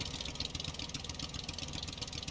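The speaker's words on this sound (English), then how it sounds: "Hold E to start engine." A gas-powered engine on a raft in the survival game Stranded Deep runs with a steady buzzing, mid-pitched drone and rapid pulsing, close and constant throughout without speech.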